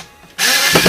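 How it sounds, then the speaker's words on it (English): A screwdriver drives a screw through a plastic stand into wood, a loud close grinding whir that starts abruptly partway in and holds steady to the end. "and just screw it in place"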